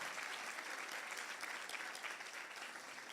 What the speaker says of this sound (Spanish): Vamos a dar un aplauso fuerte a Jesús